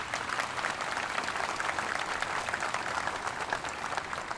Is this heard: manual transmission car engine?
no